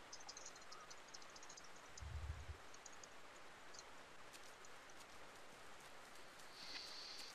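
Rain falls in the MTA DayZ survival game as a faint, even hiss that runs throughout, broken by one brief low thump partway through, with no voices.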